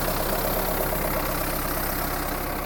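A Mahindra Roxor diesel utility vehicle engine idles steadily after a cold start, a continuous low rumble with a faint rattle and no voices, close and even throughout.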